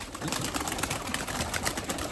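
Erzurum white breeding pigeons coo softly in a loft, a faint, continuous murmur of overlapping calls under a hiss of background noise.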